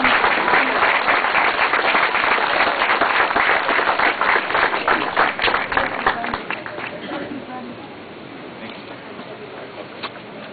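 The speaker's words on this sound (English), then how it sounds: "let's give Kevin a big round of applause" An audience at a state senate candidate's event in Salida applauds a speaker, brisk clapping loud at first then thinning and fading out by the end, with a voice faint underneath.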